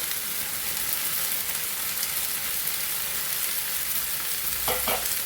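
Garlic ginger paste frying in a pan for homemade pasta, a steady close sizzle with a faint utensil clink near the end, no voices.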